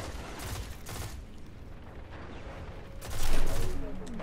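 Gunfire in a Destiny Crucible Clash match: bursts of rapid shots and impacts come in clusters, with a louder flurry near the end, under a steady game mix.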